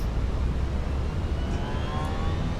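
Airbus A320 engines spool up to full takeoff/go-around thrust in a flight simulator, a dense, steady roar with a broad rushing hiss and a faint whine, constant and loud throughout.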